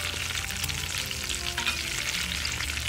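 Fish patties fry in a hot pan, giving a steady, close sizzle and crackle that holds evenly throughout with no voices.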